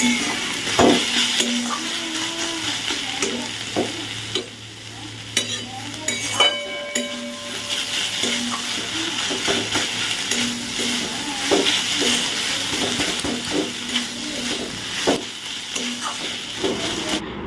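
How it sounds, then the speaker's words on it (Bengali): Leafy greens (saag) fry in a pan, a steady close sizzle and hiss broken by repeated scraping stirs of a utensil against the metal, with occasional clinks. "এখন আমি ধুয়ে কেটে এই যে শাকটা বসিয়ে দিলাম"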